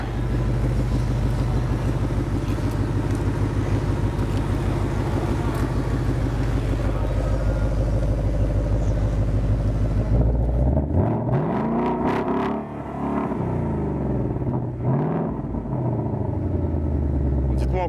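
A Ford Ranger Raptor's engine holds a deep, loud idle, then is blipped in several sharp revs that rise and fall. A voice speaks over the engine.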